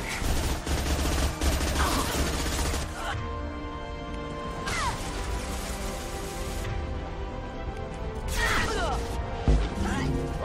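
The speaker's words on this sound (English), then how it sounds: "we did get a detonation there" Mass Effect 2 combat on Insanity difficulty with an Adept's biotic detonation: heavy bursts of gunfire and loud crashing explosions in several waves, with a voice talking over the chaotic battle noise.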